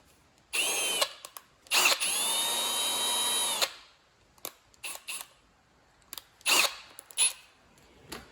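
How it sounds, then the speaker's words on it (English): Drilling a pilot hole into a VW Beetle gas tank with a 1/8 inch bit: short bursts of a whining power drill, one longer steady run, then several brief stop-start pulses and clicks with quiet gaps between. "I'm going to make a pilot hole with an 1/8 inch drill bit."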